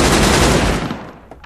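Rapid gunfire from a player's weapon in the PvP shooter game Badlanders, set in a desert map, a loud dense burst that fades out over about a second with no talk over it.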